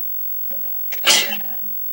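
A single close, sharp sneeze with a short breathy intake just before it, in an otherwise quiet room.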